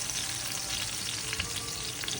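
Green chili stir-frying in a pan, a steady dense sizzle with faint scraping and crackles running throughout, close and continuous with no talk.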